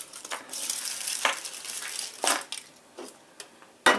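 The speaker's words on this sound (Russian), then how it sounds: "Натираем шоколадочку" Chocolate rubbed against a small hand grater to top an anthill cake made with cookies: rhythmic, close, raspy scraping strokes with short pauses between them, ending in a sharp knock.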